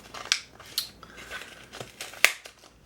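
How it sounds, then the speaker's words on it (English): A cardboard subscription box sealed with double-sided tape is torn open, giving a handful of sharp ripping and crinkling bursts at irregular intervals, close and alone with quiet gaps between. "I have to tear the entire box in half."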